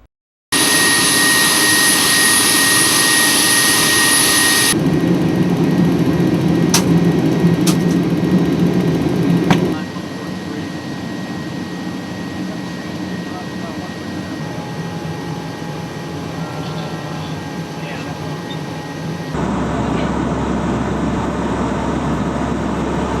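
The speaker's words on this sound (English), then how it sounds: "Unlike the G4 jet, the P-3 flies right into the eye of the storm." A NOAA P-3 Hurricane Hunter plane flies into a hurricane, heard from inside the cabin as a loud, constant engine roar whose tone shifts several times over a long stretch, with no talking.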